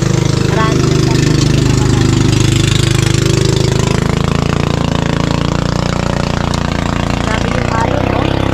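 A pump boat engine runs steadily on the water, a loud continuous low chugging drone that holds through the whole stretch with slight shifts in pitch.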